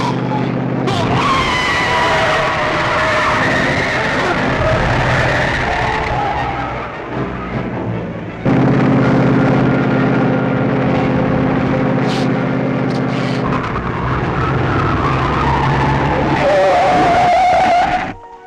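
A runaway car skids in a 1950s comedy film, with a loud, sustained screech of tires and a roaring engine that cuts out and surges back in long, close bursts.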